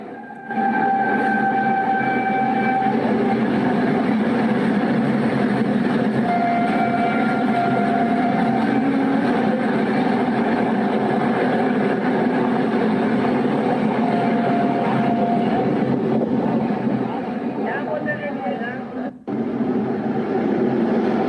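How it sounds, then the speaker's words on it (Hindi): A double-engine train on India's green corridor rushes past nearby in a loud, unbroken roar and rumble of wheels on track, with a faint tonal whine riding on top for over twenty seconds. "डबल इंजन के साथ भागती हुई ग्रीन कॉरिडोर की ये रेल।"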